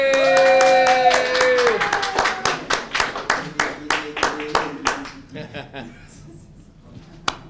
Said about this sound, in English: round of applause as they enter